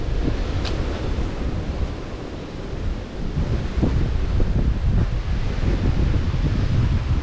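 A clean river in Jamaica flowing steadily, a broad close rush of water mixed with wind buffeting on the microphone, continuous and loud with no voices.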